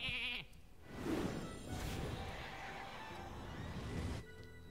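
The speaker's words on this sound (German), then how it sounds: "Ich habe gehört, Isera ist nämlich ein Schaf." A sheep bleats in the card game Hearthstone, a short, wavering cry following a brief tonal game cue, over a soft background bed.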